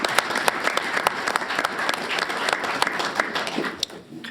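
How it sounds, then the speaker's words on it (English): Applause from a school board meeting audience for National Merit finalist students: steady dense clapping throughout, fairly close, with a few sharper individual claps and a slight fade near the end. "let's give one more round of applause for all the National Merit finalists"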